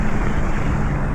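Steady, loud wind rushing over a sailboat on the water as a cold front moves in, a constant broadband roar with a low rumble and no voices.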